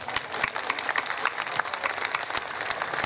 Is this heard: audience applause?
yes